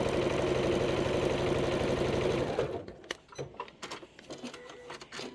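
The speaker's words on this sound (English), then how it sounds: "And then I'm going to stitch all the way across." A sewing machine stitches quilt fabric in a fast, steady whir for a few seconds, then stops, leaving faint handling rustles and small clicks.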